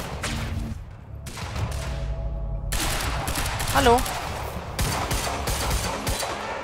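Gunfire bursts and weapon blasts from the video game Quantum Break crackle in quick volleys amid game effects, while a player speaks briefly.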